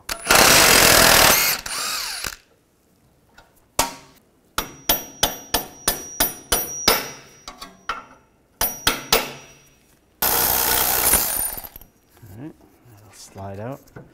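Ratchet fitted with an 18 mm socket working a bolt on a 2011-2021 Jeep Grand Cherokee rear wheel bearing job, giving a run of sharp, rapid clicks between louder bursts of power tool whirring and metallic clanks, with someone talking at times.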